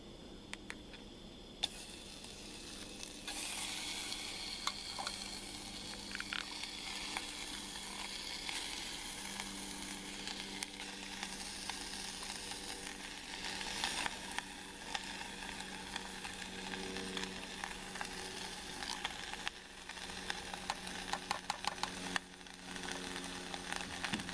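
Roast beef hash sizzles and crackles steadily as it fries in a canteen cup outdoors, a continuous close hiss dotted with small pops and scraping stirs, no one talking.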